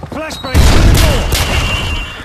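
Loud gunfire and a flashbang burst in a Call of Duty 4 target-shooting training level, dense booming shots after a short voice, continuing through the rest of the clip.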